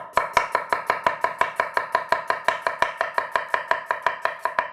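A knife chops vegetables for an Asian slaw on a cutting board in a steady, rapid rhythm of about two dozen sharp, close strikes, with no talk.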